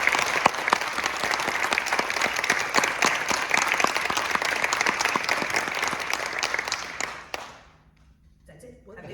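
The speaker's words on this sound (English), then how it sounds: "So let's give everybody a round of applause." A seated audience at a school board candidate forum claps steadily for several seconds, a dense even roar of hands that cuts off sharply near the end, leaving near silence.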